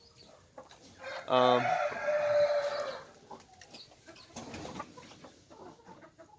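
Siberian Fawl chickens, a rose-combed rooster and feather-legged hens, give a loud burst of crowing-like calls followed by softer clucking, with someone talking quietly in the background.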